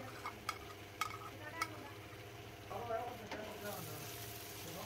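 Shredded boiled chicken is stir-fried with garlic in a pan, with soft sizzling under a few clinks and scrapes of a utensil stirring.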